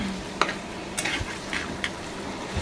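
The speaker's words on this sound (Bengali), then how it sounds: "আমি মাছের সাথে অপর সাইড থেকে পেঁয়াজ রসুন কাঁচামরিচগুলো ভেজে নেব" Fish sizzles in a pan alongside onion, garlic and green chillies, a steady close frying hiss broken by several sharp scrapes and taps of a stirring utensil.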